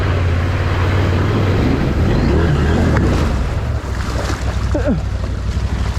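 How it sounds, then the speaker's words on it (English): An adventure motorcycle churns through a rocky water crossing, its low engine rumble mixed with splashing water and wind buffeting the microphone, loud and close throughout. "Do not try to take a big ADV bike across this crossing unless you got a group of guys to help you pick it up"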